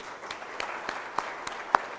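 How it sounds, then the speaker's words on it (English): A memorial event audience for Basdeo Panday gives a round of applause, a thin, quiet clapping bed with a few sharper individual claps standing out at intervals. "he deserves a round of applause."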